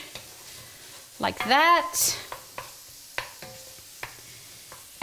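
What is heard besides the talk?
stirring onions and garlic in a pan for red Thai curry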